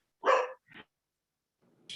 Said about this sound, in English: my dog Loki agrees with me, because that's what she says when she's barking.